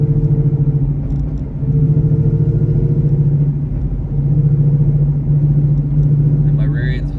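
A Coyote-swapped car running E85 on drag radials gives a loud, steady engine drone and rumble with a low humming rear end, heard from inside the car with slight swells in level.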